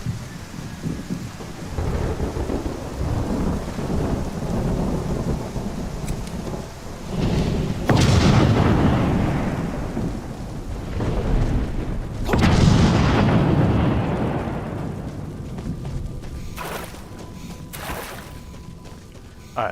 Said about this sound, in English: Yep, now that is a lightning storm.